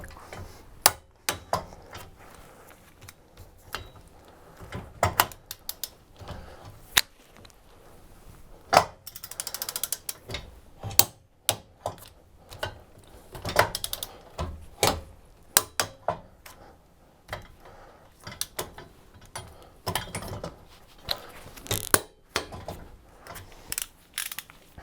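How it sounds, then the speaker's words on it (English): A ratcheting torque wrench tightens lug nuts to 90 foot-pounds on the tire carrier adapter spacer of a RockHard 4x4 swing-out carrier on a Jeep TJ. It gives close, repeated ratchet clicks in uneven bursts, with occasional sharper clacks. "I'll grab the torque wrench and crank it up to 90 foot-pounds."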